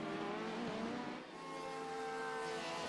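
Simulated Le Mans race cars, including an LMP2 prototype, roar past on the Mulsanne straight in a racing video game, engine tones rising and falling with a brief dip, fairly faint and without talk.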